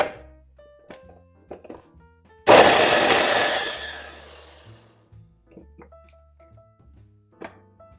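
An electric chopper mincing carrot, celery and onion for a Bolognese sauce whirs loudly in one harsh burst of about two and a half seconds, fading out, between quiet kitchen knocks and clinks.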